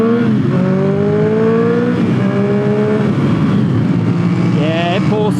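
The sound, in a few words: Triumph Street Triple R motorcycle with aftermarket exhaust accelerating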